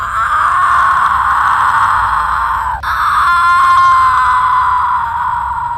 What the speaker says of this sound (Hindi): उसके छिड़कते ही पेड़ से चुड़ैल की चिल्लाने की आवाजें आने लगती है।